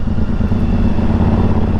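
Aprilia Tuareg motorcycle fitted with a stage 3 exhaust, running with a steady, loud, close engine rumble and throaty exhaust note that holds throughout without talk.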